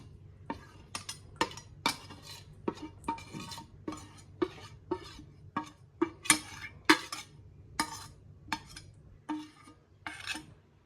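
A spoon mixes gram flour and spices into a poha and green pea cutlet mixture in a bowl. Repeated close scrapes and clinks come at an uneven, brisk rhythm, some louder than others, with no talking.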